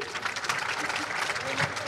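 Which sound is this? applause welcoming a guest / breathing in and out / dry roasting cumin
applause welcoming a guest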